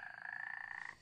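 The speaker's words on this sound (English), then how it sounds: "It's a frog." A frog croaks in the survival game Feral, one steady, buzzing call lasting about a second, close but quiet, with no talking over it.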